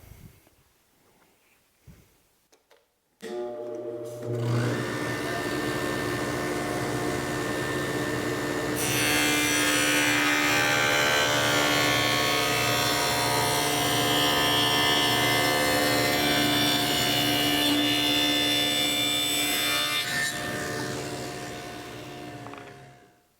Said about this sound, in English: I'm just going to go ahead and cut all these dados where I can